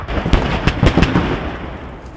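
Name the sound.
BTR armored vehicle destroyed, explosion in video game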